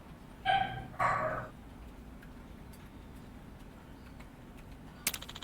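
Two sharp dog barks sound in quick succession in Yakuza: Like a Dragon, fairly close and clear over quiet ambience. A brief mechanical ratcheting follows near the end.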